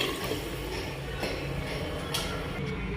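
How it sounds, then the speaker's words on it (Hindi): Water poured from a small pot onto washed rice in a pressure cooker for chicken biryani: a soft, continuous splashing trickle with faint clinks, fairly quiet and close. "अब मैं पानी डालूँगी 2 लोटे।"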